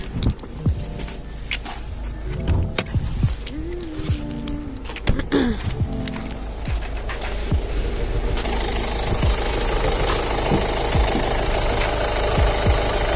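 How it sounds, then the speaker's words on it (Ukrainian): A Peugeot 308 1.6 HDi diesel engine from 2017 idles with a steady, knocking rumble close by, growing louder and harsher partway through. "Надіюсь, вам добре чути, як працює мотор."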